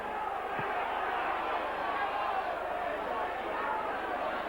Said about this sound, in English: Saints crowd getting excited now.